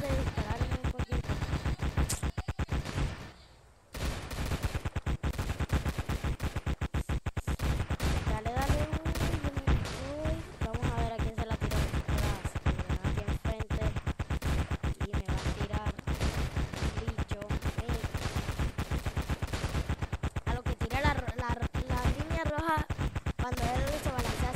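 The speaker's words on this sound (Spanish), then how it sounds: "No le dejo de disparar ni un poquito." Continuous rapid gunfire in Roblox Zombie Attack, dense bursts of shots with one short pause early on, under a voice talking almost throughout.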